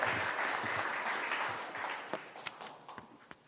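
A round of applause for the panelists at a Women in Defense panel event in Philadelphia, dense clapping from an audience that starts full and gradually thins out, with a few scattered late claps at the end.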